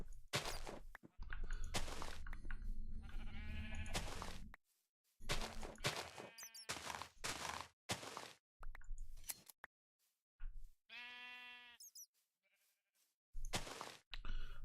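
Minecraft sheep bleat in short, separate calls, with one clear bleat standing out near the end. Snips and clicky game sounds break the call up, and short silences fall between the bursts.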